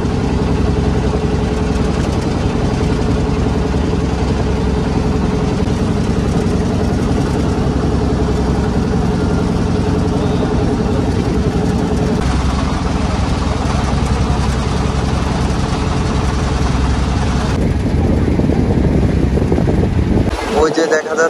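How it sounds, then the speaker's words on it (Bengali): A boat engine runs steadily as the vessel heads forward on a river near Kuakata toward the eastern Sundarbans, a constant low drone with wind and water noise throughout. "বোটের পাইলট ইঞ্জিন স্টার্ট করে সামনের দিকে এগিয়ে যাচ্ছে।"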